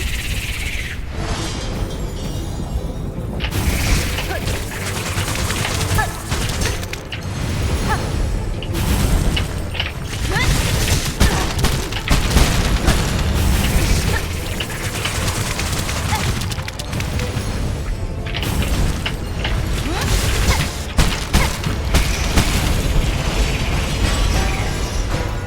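Video game bombs bounce and explode in rapid bursts, with booms and pops layered over dense, continuous game sound effects and music throughout.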